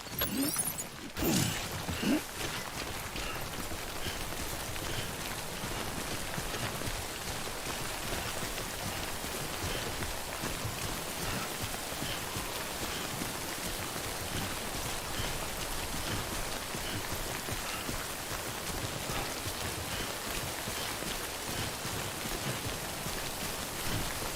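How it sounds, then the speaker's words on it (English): Steady, dense rain hisses evenly across the whole stretch in the video game Death Stranding, a continuous close wash of falling drops with no voices over it. "Don't stay out in the rain any longer than you have to."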